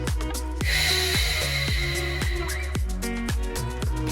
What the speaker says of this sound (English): Take some lovely deep breaths here.